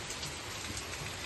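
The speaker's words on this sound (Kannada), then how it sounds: "ಇವಾಗ ಫುಲ್ಲಾಗಿ ಮಳೆ ಬರ್ತೈತೆ ಗಾಯ್ಸ್." Heavy rain falling over farm fields at night, a steady, even hiss of dense rainfall heard at a moderate distance, unbroken and without voices.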